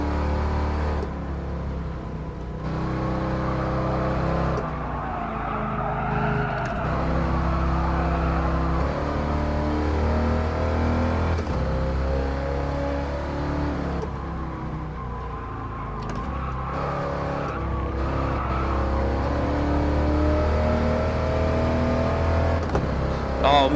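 A 1978 Trans Am V8 races in a Gran Turismo Sport game, its engine droning and rising through revs steadily, with tire and track noise beneath and occasional gear-change dips, loud and continuous throughout.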